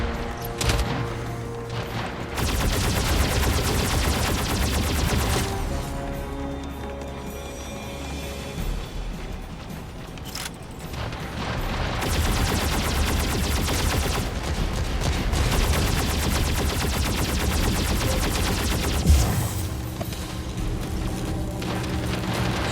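Sustained gunfire from a video game deathmatch, dense bursts of shots and booms running almost continuously at a steady loud level, with a few sharper blasts standing out.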